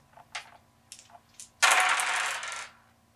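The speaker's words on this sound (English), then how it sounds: "Roll all 5 dice again." Five six-sided dice rolled together onto a hard surface, a dense clattering burst of about a second with a few light dice clicks just before it, close and fairly loud with no talking.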